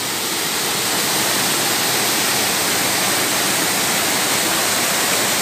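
Tadeu waterfall in Duas Barras, Brazil, a loud, steady, broadband roar of falling water heard up close, continuous and unbroken with no voices.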